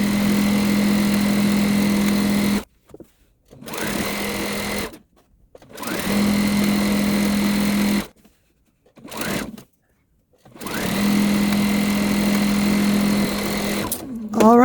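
Sewing machine running in steady bursts as it stitches a quilt seam through layered fabric for a layer cake walk pattern, several runs of a few seconds each separated by pauses, close and loud with a talking voice at times.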